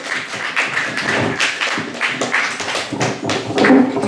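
Audience at a comedy open mic claps steadily for a few seconds, a dense, close burst of applause with no voices over it.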